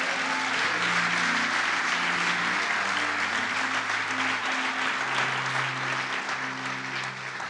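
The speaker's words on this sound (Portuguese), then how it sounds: "Glorifica a Deus com as palmas" Church congregation clapping hands in praise during a Sunday morning Baptist service, dense steady applause filling the room with sustained low tones beneath it.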